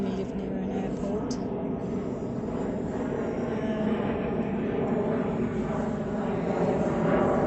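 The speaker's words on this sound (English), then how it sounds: "Sorry, plane going over. That's what happens when you live near an airport." A fixed-wing airplane passes overhead near an airport, heard as a steady, rumbling engine drone that swells slightly over several seconds beside a garden.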